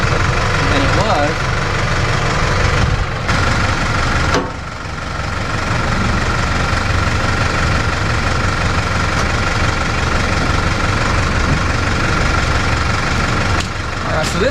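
A tractor engine runs loud and close while a Kodiak HD 8-foot box blade grades gravel on a new driveway, a steady rumbling drone with a brief dip partway through, then continuing unbroken.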